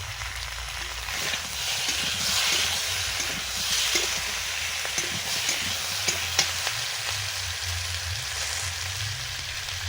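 Tomatoes go into hot oil for a potato, pointed gourd and fish curry, producing a steady, loud, close sizzle with scattered stirring scrapes and clicks throughout and no talking.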